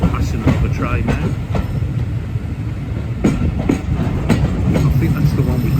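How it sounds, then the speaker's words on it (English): A loud train on the Gloucester & Warwickshire Steam Railway rumbles past close by, with rhythmic clicking of wheels over rail joints and a heavy, steady roar. "Passing another train now."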